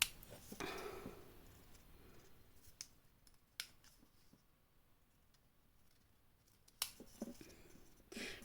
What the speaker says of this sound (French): Et on va les couper. Couper un petit peu en biais.